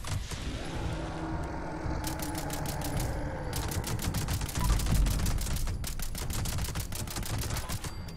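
Rapid automatic bursts from an anti-armor submachine gun in Fallout 76, a fast rattling stream of shots in two long sustained runs over a low ambient game hum.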